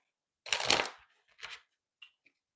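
Tarot cards riffle in a short close shuffle, one longer burst then a shorter second one and a couple of soft taps, with silence between.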